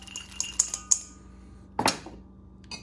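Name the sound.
almonds added to granola mixture in a bowl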